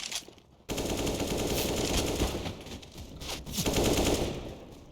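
Loud, sustained automatic gunfire from a Counter-Strike: Global Offensive match on Dust II, rapid shots running almost continuously after a brief quiet start, with a short dip midway before another dense burst.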